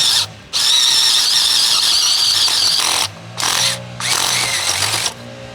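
A bulb auger drill whines and grinds loudly in long bursts, stopping briefly between runs, with a high-pitched squeal as it bores into rocky soil.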